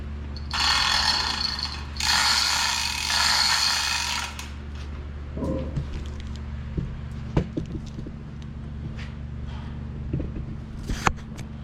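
Chain hoist lifting a Cummins 12 valve engine part, giving two bursts of rapid ratcheting clatter up close, followed by scattered metallic clicks and clanks.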